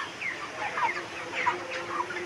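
Broiler chickens cluck repeatedly in a busy, overlapping chorus, close and steady throughout with no talking.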